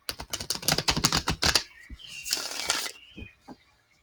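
A deck of tarot cards being shuffled by hand, a rapid riffle of flicking card edges, then a softer sliding rush and a few faint taps, close and quiet with no talking.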